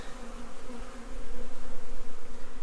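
A swarm of honeybees buzzing at a hive in a zoo, a continuous droning hum that swells and pulses louder in the second half, close and with no voices.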